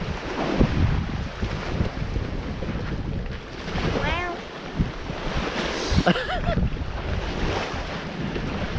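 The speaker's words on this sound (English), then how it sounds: "The winds are picking up." Wind at a Florida waterfront before rain, a steady rushing gust with microphone buffeting and surf washing in the background, with faint bird chirps.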